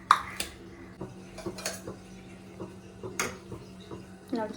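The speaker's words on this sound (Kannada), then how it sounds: "ಇವಾಗ ಪನ್ನೀರ್ ಆ್ಯಡ್ ಮಾಡ್ಕೊಳ್ಳೋಣ" Paneer cubes being added to gravy in a cooking pot, with a string of light clinks and taps of utensil on metal at irregular intervals, close and moderately loud, and no talking.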